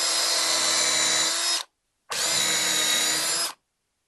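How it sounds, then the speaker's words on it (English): Power drill fitted with a countersink bit boring into wood for deck chair leg screws, two loud bursts of steady whine each lasting about a second and a half, separated by a short silence. "we take a drill with the countersink"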